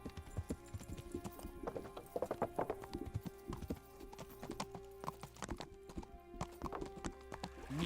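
Horse hooves clip-clopping in the medieval video game Kingdom Come Deliverance, an irregular run of close hoof strikes with occasional snorts, no talking.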